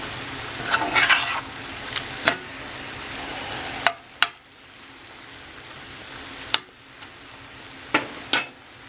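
Rock cod frying in a pan, a steady close sizzle and hiss that runs throughout, punctuated by several sharp clicks and knocks of a utensil against the pan.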